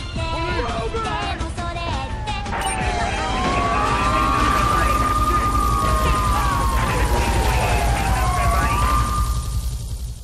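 Police car siren wailing in Grand Theft Auto III, a loud rising and falling electronic tone sweeping steadily for several seconds over constant game noise and engine rumble.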